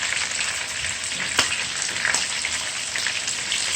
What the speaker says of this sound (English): When you fry the fish, it's supposed to can move around and not sticking in the pot.